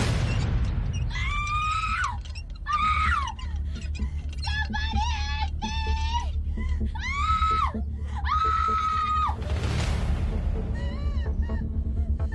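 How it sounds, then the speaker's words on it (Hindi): A woman screams in a staged comic scene, a run of high, wavering shrieks in repeated bursts over a loud rumbling background, close and intense. "चिल्ला क्यों रही हो?"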